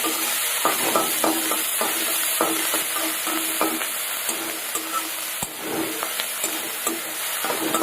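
Crushed ginger, garlic and green chilli fry in a hot pan with a steady broad sizzle, while a spatula scrapes and stirs in repeated short strokes; no voices, close and fairly loud throughout.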